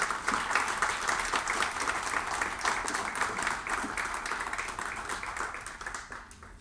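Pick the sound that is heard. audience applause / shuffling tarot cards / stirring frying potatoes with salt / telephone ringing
audience applause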